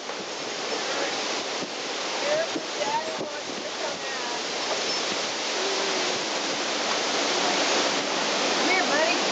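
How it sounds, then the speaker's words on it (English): Wind-driven waves churn on open water during a Tennessee wind storm, a dense, continuous roar of rushing water and gusts pressing close to the microphone. "Look at the water. Look at the waves."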